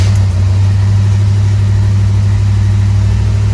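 A vehicle engine runs steadily at idle, loud and close, with a constant low rumble and no talk over it.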